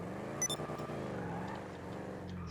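A 1970s Chevrolet El Camino-style Picador in GTA drives along, its engine giving a steady, droning rumble with a brief rev flutter near the start, loud and continuous with no talk.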